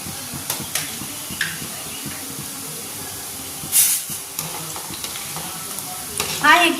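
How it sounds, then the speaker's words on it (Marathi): Alu vadi (colocasia leaf and gram flour rolls) fry over low to medium gas, a constant hissing sizzle with soft stirring taps and a few louder spatters near the end, close up with no talking. "आता मी गॅस कमी लो टू मिडियम हीटमध्ये म्हणजे कमी गॅसमध्येच आपल्याला वड्या तळून घ्यायच्या आहेत"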